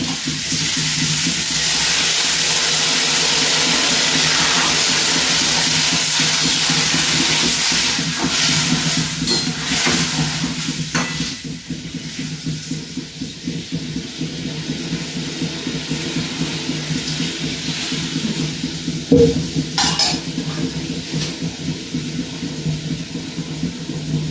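Curry boils in a pot after water has been added, giving a steady, close bubbling hiss that eases after the first few seconds, with a brief knock of stirring near the end.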